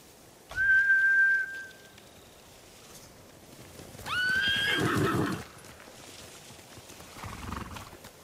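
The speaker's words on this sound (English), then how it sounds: "Bastards scared off the horses." Horses in the game Ghost of Tsushima give two high, drawn-out whinnies a few seconds apart, the second followed by snorting and hoof noise, set against a quiet outdoor background with no speech.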